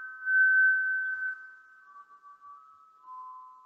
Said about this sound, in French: Accueillez ces sons aigus qui peuvent vous paraître insupportables